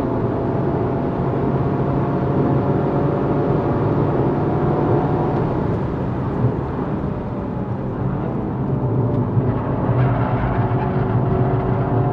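A 2022 Toyota GR Yaris drives on a race circuit, its engine a loud, steady drone from inside the car with small shifts in pitch as it accelerates through the whole stretch.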